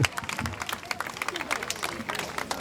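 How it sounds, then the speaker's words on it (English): A crowd applauds after the 2007 HITS All-Star basketball game, an in-house East versus West matchup, with scattered, fairly faint clapping and crowd noise that swell and dip unevenly, with some voices mixed in. "Round of applause, man."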